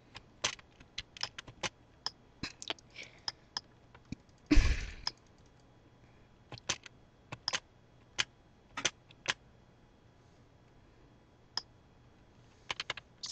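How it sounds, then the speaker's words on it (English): Scattered computer keyboard and mouse clicks, sharp and close, arriving in irregular bursts with quiet gaps, plus one louder thump partway through, no voices. "Sorry for the random clicking"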